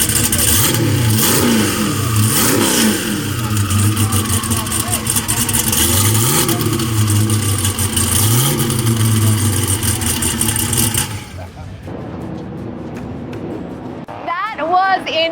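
An 1800 hp Hennessey Venom F5 hypercar at the Velocity 2022 event revs loudly and close by in several rising and falling sweeps, under people talking, before the engine noise drops away near the end.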